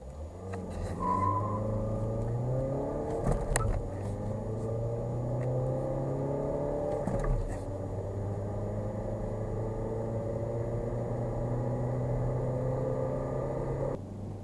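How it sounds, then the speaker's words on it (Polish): A 2017 Ford Fiesta's diesel engine drones steadily throughout, its pitch climbing in long sweeps as it accelerates, with a couple of brief thumps along the way. "dopiero przy naprawdę mocnym przyspieszaniu dochodzi do nas charakterystyczny odgłos diesla"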